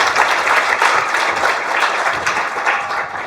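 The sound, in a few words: audience applause welcoming keynote speaker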